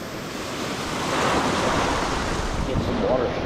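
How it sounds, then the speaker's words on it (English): Ocean surf breaking on a shell-collecting beach, a steady loud wash of waves with wind buffeting the microphone throughout, no clear talking. "The waves are getting bigger too"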